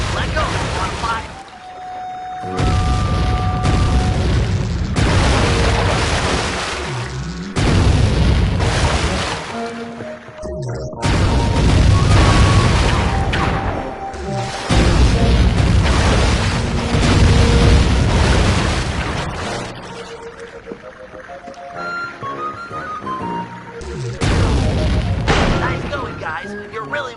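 Cannon shots fired from a rowed boat in Sly 3, with a series of loud booming blasts repeating every couple of seconds over music and game effects.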